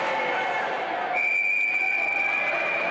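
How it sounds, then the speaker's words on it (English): Referee's whistle at a professional ice hockey game between Brisbane and Melbourne, a sustained shrill tone starting about a second in and holding to the end over a steady arena crowd roar. "And we'll get a whistle."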